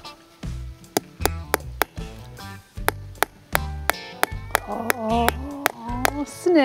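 Hammer blows drive a screw into wood as if it were a nail while putting up a deer fence, a series of sharp, irregular knocks with short pauses between, fairly close and moderately loud.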